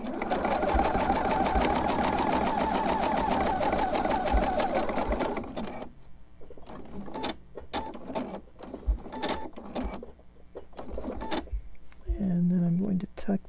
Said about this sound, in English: just like that, and sew right over it